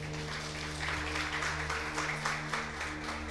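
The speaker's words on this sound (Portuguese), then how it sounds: "Aplauda Jesus" Steady applause from a church congregation fills the space, with a sustained organ-like tone humming underneath throughout.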